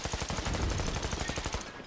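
A minigun fires in a multiplayer video game, a rapid, even stream of sharp shots rattling without pause for nearly two seconds before cutting off.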